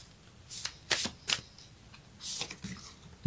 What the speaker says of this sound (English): Let's get a moonology.